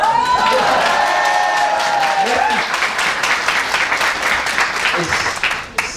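A convention audience at a geek festival breaks into loud, dense applause, with some cheers and whoops over the clapping at first, holding steady before thinning slightly near the end.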